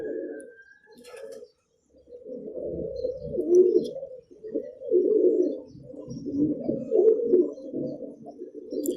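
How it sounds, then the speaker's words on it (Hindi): Teddy pigeons cooing in a steady, low, throaty burble, several overlapping calls close by and fairly loud, with no voices. "बड़े अच्छे कबूतर हैं"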